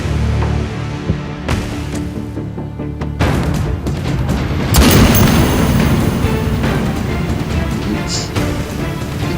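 A loud, booming gunshot fired at a target on a firing range, with heavy low rumble and a sustained roaring tail amid dense ambient noise, no speech.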